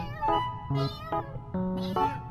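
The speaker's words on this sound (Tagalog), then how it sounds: "hindi ako mahilig sa pusa, pero nung nakita ko siya, ang ganda" A cat meows four or five times in quick succession, close and clear, with bright, harmonic-rich calls separated by short pauses.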